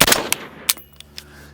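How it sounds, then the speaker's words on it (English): Suppressed rifle shots through a Silencer Co Velos K suppressor, heard as a few sharp muffled cracks, one strong burst at the start then several fainter reports spaced irregularly over about a second and a half. "The most reliable gun that I own."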